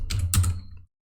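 Quick keystrokes on a computer keyboard, a short burst of a few close clicks and taps, heard alone and ending abruptly.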